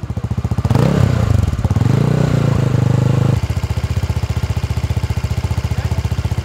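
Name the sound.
Norbster 500 motorcycle engine running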